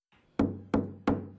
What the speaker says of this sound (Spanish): Toca la puerta.